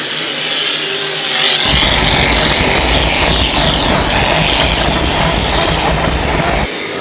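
Hydro350 hydroplane racing boat engine at a Valleyfield race, a loud, steady roar that swells after a quieter opening and holds at full power before dropping off near the end.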